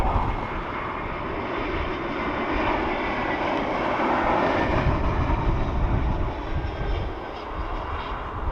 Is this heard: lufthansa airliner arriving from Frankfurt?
yes